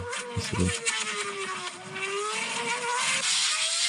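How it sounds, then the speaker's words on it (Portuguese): A car engine heard from inside the cabin gives a droning harmonic hum with low thumps near the start and a rising pitch toward the end, under faint voices early on. "Isso é barulho de dentro do carro."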